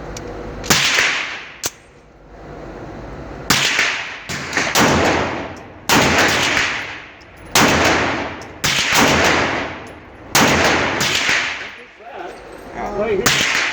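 Gunshots crack at the Weber County Shooting Complex range, around eight loud, close reports spaced one to two seconds apart, each with a short booming tail.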